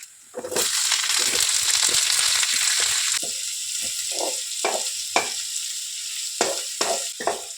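Onions and garlic hitting hot oil in a pan with a loud burst of sizzling that settles into a fainter hiss, broken by repeated scraping and stirring knocks from a spoon, close by and without talk.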